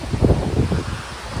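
Wind and rain beside a canal in Giethoorn village, Netherlands, heard as a continuous rough gusting roar buffeting the microphone, loud and close with no voices.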